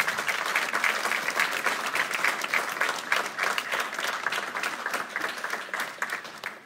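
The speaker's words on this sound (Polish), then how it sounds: "Poprosiłbym serdecznie o brawa dla wszystkich naszych debatantów." Audience applause for debate participants at the close of a youth council debate in Płock, a dense sustained clapping from a sizeable room that fades slightly toward the end.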